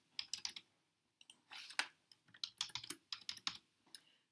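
A coupon code typed on a computer keyboard, with quick clusters of close, crisp key clicks and brief pauses between them in a quiet room.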